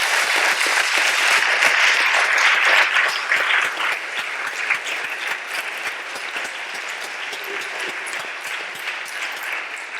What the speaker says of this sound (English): the University of Oxford deserves a round of applause for doing that tonight